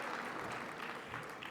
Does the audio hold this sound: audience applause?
yes